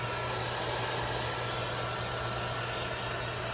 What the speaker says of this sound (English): let me get my hair dryer